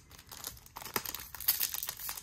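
Crinkly foil trading card booster pack being torn and pried open by hand, with soft irregular crackles and rips coming close and fairly quiet, with no voices.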